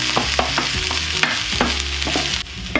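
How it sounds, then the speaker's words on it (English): Vegetables and onions stir-frying for vegan Thai basil pad kra pao, a steady sizzle punctuated by regular spatula scrapes, with low music underneath. "you just need to keep frying this up until the veggies are cooked"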